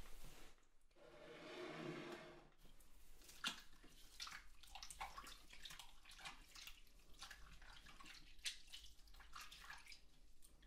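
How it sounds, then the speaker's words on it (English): Running water pours steadily from a tap as hands are rinsed in a cosmetics shop, starting with a smooth stream and shifting into irregular splashing and dripping, soft and close. "I'm just going to rinse my hands, okay?"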